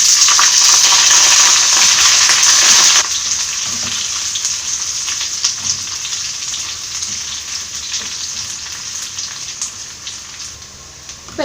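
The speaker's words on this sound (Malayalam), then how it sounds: "ഇനി അരിഞ്ഞു വെച്ചിരിക്കുന്ന ചെറിയുള്ളിയും കറിവേപ്പില ഇട്ട് കൊടുക്കാം." Chopped shallots and curry leaves sizzle and crackle in hot oil for a Kottayam-style Kerala fish curry tempering, loud and bright at first, then settling into a steadier, quieter fry with scattered pops.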